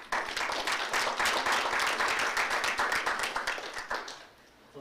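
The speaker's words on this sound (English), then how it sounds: "we need to give a big applause to the Belize Chamber of Commerce" Applause for the Belize Chamber of Commerce at its 94th Annual General Meeting: many hands clap in a dense, steady burst for about four seconds, then fade out near the end.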